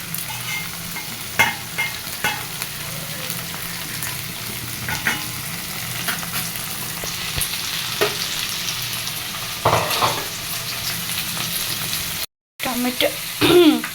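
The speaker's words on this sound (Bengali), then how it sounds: "টমেটোগুলো ভাজা ভাজা হয়ে গেছে।" Tomatoes fry in a pan with a steady sizzle while a utensil stirs them, giving a string of scraping clicks that runs throughout at close range. A short gap in the sound comes near the end, and no one speaks.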